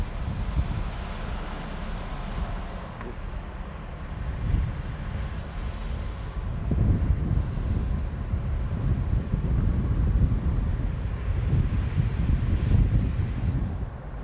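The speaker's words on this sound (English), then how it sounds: "Love the ocean breeze here" Ocean breeze gusts across the coast at Hana, Maui, buffeting the microphone with steady wind and the faint wash of surf beneath, growing stronger in the second half.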